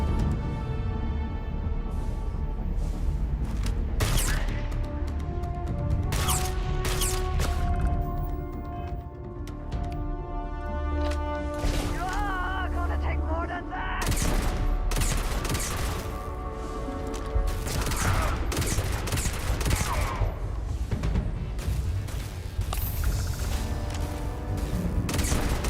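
Gunfire in Starfield's Shattered Space, dense and continuous, with rapid repeated shots and crashing impacts layered over game music across the whole stretch.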